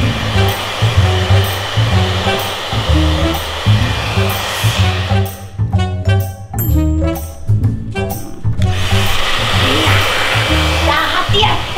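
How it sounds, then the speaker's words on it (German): A hair dryer blows loudly at close range as a constant rushing roar, briefly cutting out and pulsing midway before resuming, with a low rhythmic thumping beneath. "Föhn dir die Haare!"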